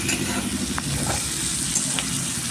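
Tomato masala stirred and fried in a pan, a steady close sizzle running throughout with soft scraping stirs and a few brief clinks, no voices.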